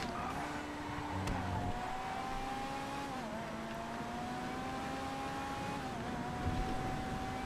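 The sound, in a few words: race car engine in GTA FiveM video game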